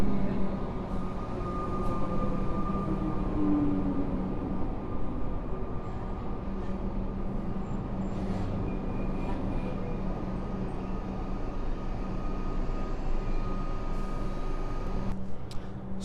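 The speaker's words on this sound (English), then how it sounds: "our train has now just arrived here at Craigieburn Station" A suburban train arrives at Craigieburn Station, a steady low rumble with faint mechanical tones sustained for about sixteen seconds, heard at a moderate level with no talk.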